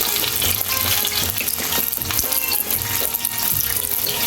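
Curry leaves and onion fry in hot oil in a pan, a loud, continuous crackling sizzle with dense spattering pops throughout, close and unbroken.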